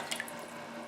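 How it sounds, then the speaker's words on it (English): Water pours into a cooking pan in a home kitchen, a soft continuous splash and trickle with a few brighter drips near the start, heard alone at close range. "I'm just gonna pour the water."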